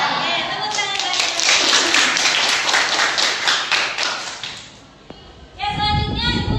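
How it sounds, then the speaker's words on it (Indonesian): Schoolchildren in an Indonesian mathematics class clap their hands together in a brisk, rhythmic patterned beat for several seconds, with voices mixed in, before the clapping stops and a louder voice follows. "Oke, tepuk tangan kalian."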